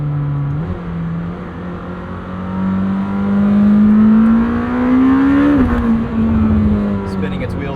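A 2026 Lamborghini Temerario, a 907 hp hybrid V8 supercar, accelerates hard with its wheels spinning into third gear. The engine revs rise steadily to a loud, raspy peak, drop briefly at the shift, then climb again.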